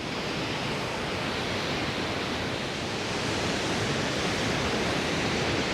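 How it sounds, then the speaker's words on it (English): Grizzly Falls, a waterfall in British Columbia, gives a constant, dense roar of rushing water that fills the whole scene without a break. "here's Grizzly Falls for you. One of many waterfalls we've seen on the way up"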